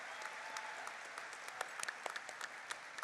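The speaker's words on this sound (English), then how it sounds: "You can clap." A graduation crowd at Holt High School's class of 2024 ceremony claps continuously, heard faint and distant as a steady wash of applause with scattered sharper claps.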